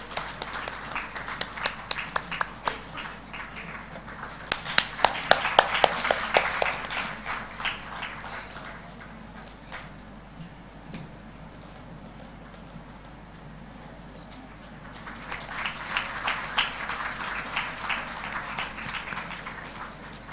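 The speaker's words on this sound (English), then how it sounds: "Please keep applauding for our session chairs." Conference audience applauding session chairs, clapping in two bursts, one loud and dense near the start, a second swell later, with quieter scattered claps between.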